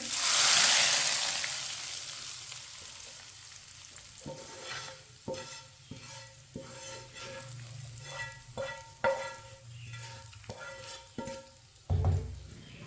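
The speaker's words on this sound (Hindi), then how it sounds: "तड़का डाल लेंगे दाल में।" A loud hiss of hot spice tempering with red chilies poured into masoor lentils, followed by stirring and scraping with a utensil, with intermittent sizzling underneath.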